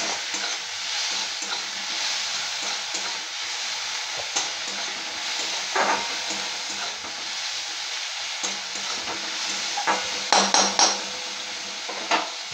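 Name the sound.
frying spices and tomato for peyaz recipe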